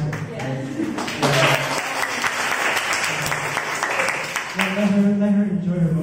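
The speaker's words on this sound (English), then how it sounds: "I want to ask you guys to give Heidi the biggest applause because this is her first speech in this semester" An audience applauds a student's first speech of the semester, sustained clapping through the room with voices talking over it at the start and end.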